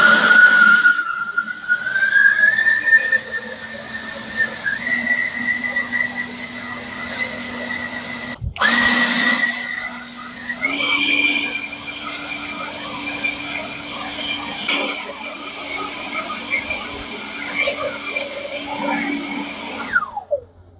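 A Bubra cordless leaf blower with dual batteries runs for about twenty seconds, its loud, steady electric whine and rushing air stepping up in pitch a couple of times before it winds down at the end.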